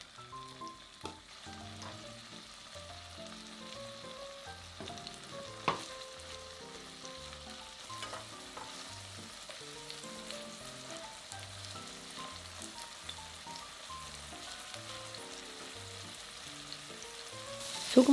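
Sliced tofu pan-frying in oil over medium heat makes a soft, continuous crackle and sizzle, with a faint rhythmic patterned hum underneath and a brief clatter near the end, no talk.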